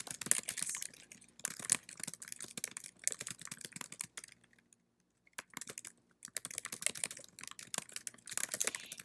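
Fast computer-keyboard typing while a note is written to a friend, dense bursts of keystrokes with a short silent pause midway, close and fairly loud with no voices.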